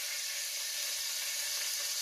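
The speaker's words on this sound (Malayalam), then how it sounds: "ഒരു പാത്രം അടുപ്പത്ത് വെച്ചിട്ടുണ്ട്. നെയ്യ് ഒഴിച്ചു കൊടുക്കുന്നതാണ് കേട്ടോ." Ghee poured into a hot pot on the stove sizzles with a steady, bright, close hiss that holds evenly throughout, with no voices.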